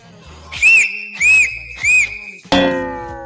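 A person whistles three loud, shrill rising notes in quick succession, each about a third of a second, followed by a sharper burst of noise at the end.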